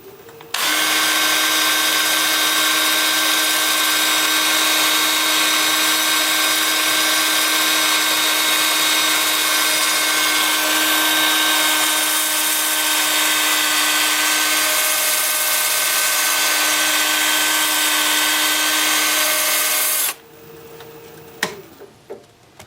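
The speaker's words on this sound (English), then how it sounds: "Time for sanding." A lathe spins a pink dogwood winged bowl while sandpaper works against the wood, a steady loud whirring hiss held for about twenty seconds before cutting off, followed by a few faint clicks.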